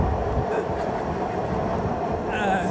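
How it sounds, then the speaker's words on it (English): A train rumbles past nearby with a steady, dense rolling roar of rail noise, moderately loud and unbroken, and a faint squeal rises near the end. "I hear the train coming."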